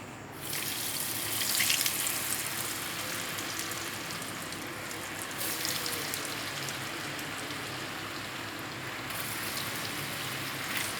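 Potato chips frying in hot oil at home, a steady dense sizzle and hiss like light rain that runs on without break, fairly quiet and close, with no voices.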